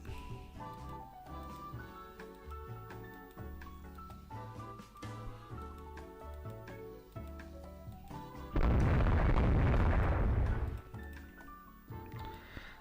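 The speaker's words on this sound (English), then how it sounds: "And we're opening up with the big 16s." Naval 16-inch guns firing in the Rule the Waves 3 game: a single massive, sustained roaring blast lasting about two seconds, loud and broad, standing out over a steady background of music and game sounds.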